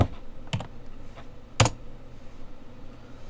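Fingers type on a computer keyboard into a search bar, a few sparse, sharp key taps and a firmer clack, close and clear against a quiet background.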